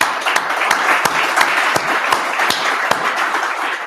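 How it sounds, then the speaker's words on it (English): An audience at a Go programming meetup in Zürich applauds, dense hand clapping with sharp individual claps standing out, loud and steady throughout the short stretch. "Round of applause, please."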